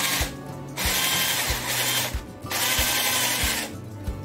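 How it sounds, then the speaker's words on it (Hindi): A power drill bores a hole in a coconut shell in repeated bursts, the whirring grind starting and stopping roughly every second, close and loud with no talk. "बड़ा इजीली ये सुराख हो जाएगा आपके।"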